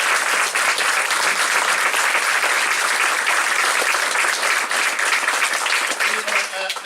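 Sustained audience applause for young musicians of a drum and trumpet corps, dense and steady clapping filling the whole stretch, loud and even before tapering slightly at the end.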